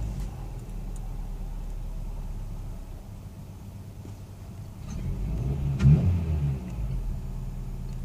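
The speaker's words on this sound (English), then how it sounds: "We're going to cycle the key again and start the engine." A quiet idling hum gives way to a Vauxhall Astra H engine turning over and catching after an ECU reset, with a brief rev and a low rumble as it settles.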